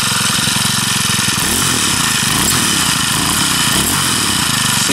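A Craftsman 4-cycle string trimmer engine with a hesitating, stalling throttle runs loud and close, its rough idle rising and falling as the throttle is squeezed, revving unevenly throughout.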